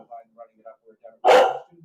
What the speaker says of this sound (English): She's just been barking.